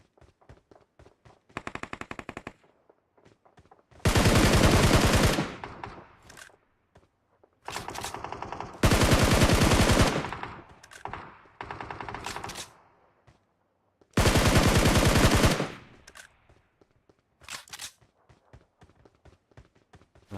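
Automatic gunfire in an online multiplayer shooter game: repeated loud bursts of rapid shots, several long sustained volleys separated by short gaps and lighter clicks, close and dominant, with no speech.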